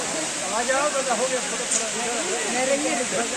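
A waterfall at Yercaud, running with low flow, makes a steady broadband rushing hiss that fills the scene while voices talk over it.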